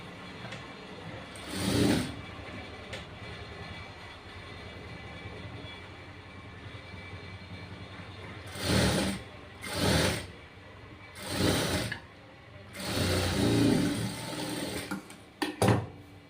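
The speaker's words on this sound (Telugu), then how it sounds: "ఈ 3 లేయర్స్ని కలిపి స్టిచ్ చేసేస్తున్నాను." A sewing machine stitches through three layers of fabric in short whirring runs separated by quiet pauses, with several bursts close together near the end.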